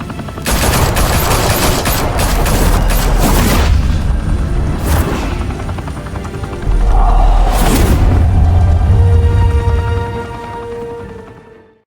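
Loud, close volleys of gunfire and deep booming explosions from Batman: The Telltale Series, dense rattling bursts up front, then a heavy rumbling blast and fire that trails off at the end, with no talking.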